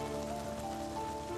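Rain falls outside a car, heard from inside as a faint, steady patter against the body and windows, with a low hum underneath and no talking.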